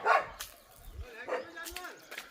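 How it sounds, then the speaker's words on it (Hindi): Dogs bark in the forest of Rajaji National Park, a few sharp yaps and whining barks at a moderate distance, mixed with faint voices talking. "भौंक रहे हैं यहाँ पे।"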